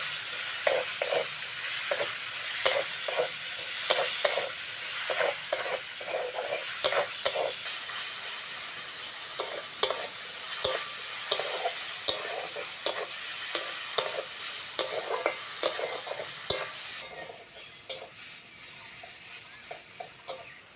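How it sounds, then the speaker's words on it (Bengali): Chopped onion sizzles in the hot oil left over from frying eggs, for a Bengali egg curry. A steady, close hiss runs throughout, with repeated scraping stirs of a spatula in the pan and no voices. "ওই তেলের মধ্যে কুচনো পেঁয়াজ দিয়ে দেবো।"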